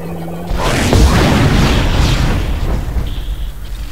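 Mine from the line gun's alternate fire detonating in Dead Space, a loud booming blast that swells in and rumbles on for several seconds before tapering off.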